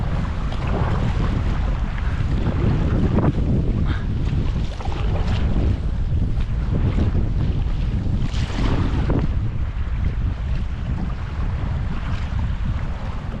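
Sea waves and current wash around a small boat heading toward an island. Constant churning water and heavy wind buffeting fill the scene with a loud, rough, unbroken roar.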